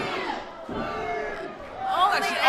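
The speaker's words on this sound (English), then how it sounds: "this crowd is cheering for Maddie as Maddie goes up for a roll" A wrestling arena crowd roars and cheers during a match, a dense wash of many voices that dips briefly and then swells louder toward the end as a roll-up pin is attempted.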